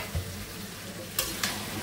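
Vegetables go into a pan of fish and spice paste frying in oil. A steady loud sizzle runs throughout, and two quick scraping stirs come near the end, with no voices.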